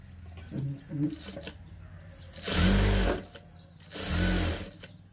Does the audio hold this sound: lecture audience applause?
no